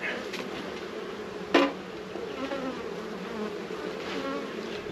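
Honey bees hum steadily and densely around an open hive during an inspection. The buzzing holds close and continuous, with one brief knock partway through.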